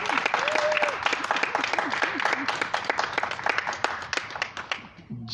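A church congregation at a Marian evening service for the Assumption bursts into sustained applause, dense clapping from many hands filling the room, with a voice and a few cheers rising over it.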